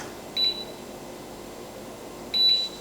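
Two short, high electronic beeps from an espresso machine timer sound about two seconds apart over a quiet room hum.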